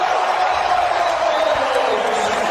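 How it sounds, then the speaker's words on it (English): Arena crowd at an NBA All-Star game, a broad loud roar of cheering that swells and holds steady before easing slightly, dense and continuous. "And the crowd responds."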